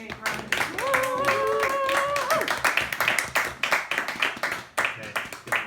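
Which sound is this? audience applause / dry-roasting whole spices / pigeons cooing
audience applause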